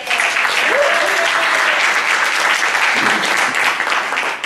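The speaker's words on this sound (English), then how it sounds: "So how about a round of applause for those people who are running some smoops?" A church recovery-service audience breaks into a loud, dense round of applause that stays steady throughout, with a faint voice briefly audible underneath.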